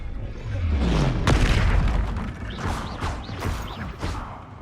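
A Confringo blasting spell explodes in Hogwarts Legacy, a heavy booming crash with a descending low rumble, followed by scattered crackling impacts and bursts of combat noise.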